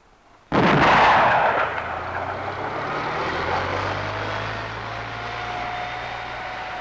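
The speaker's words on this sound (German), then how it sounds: "Ein Panzer kommt auf die Sperre zu." A tank rolling toward an anti-tank wire barrier, opening with a sudden loud heavy blast-like burst, then a sustained rumbling engine roar with a low droning hum that carries on steadily.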